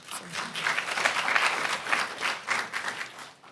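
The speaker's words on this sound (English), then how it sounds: "And I will conclude my report with that applause." Audience applause at a Raleigh city council meeting, a burst of clapping that swells and holds for a few seconds at moderate volume before tapering off.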